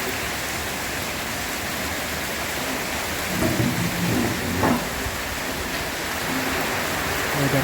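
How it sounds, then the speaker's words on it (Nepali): Sudden heavy rainfall in Israel, a steady, dense hiss of rain pouring over a road, loud and continuous, with a slight swell of low rumble midway and no talking. "सडनली पानी पऱ्यो है"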